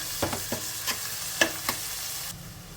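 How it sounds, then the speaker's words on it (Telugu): Onion pieces frying in a pan with green chilies and curry leaves, a soft steady sizzle broken by several short stirring scrapes, close and fairly quiet, with no voices. "ఇప్పుడు ఈ ఉల్లిపాయ ముక్కలు ఒక 2 నిమిషాలు ఫ్రై చేసేసుకోవాలి."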